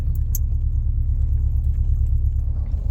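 Subaru STI fitted with a Cobb SF intake, driving: a steady, loud low engine rumble holds throughout with no speech, plus a few faint high clicks early on.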